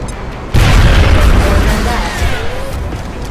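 Grenade explosion in the video game XCOM Enemy Within: a sudden loud, deep boom with a long rumbling tail that fades slowly over about three seconds.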